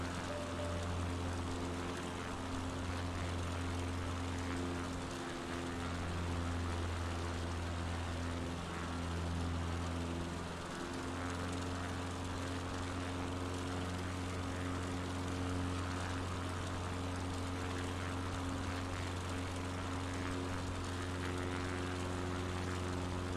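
Propeller aircraft droning steadily in Flight Simulator, a constant loud engine hum with strong low tonal bands holding throughout, no voices.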